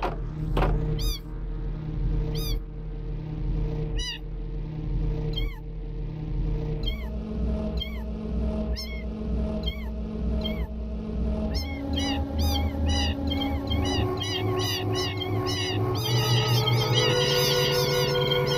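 Dozens of cats in the Minecraft video game meow over and over, the calls overlapping and layering into a loud, dense chorus that keeps building to the end.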